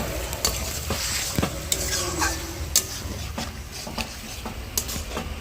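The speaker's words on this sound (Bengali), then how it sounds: "এবার আমি কেটে রাখা চিকেনগুলো দিয়ে দেবো। ভালো করে আমি মশলার সাথে মিশিয়ে নেব।" Chopped chicken pieces are stirred with spices and turmeric in a hot pan for a chicken curry, giving a steady close sizzle broken by repeated sharp scrapes and clicks of the spoon against the pan.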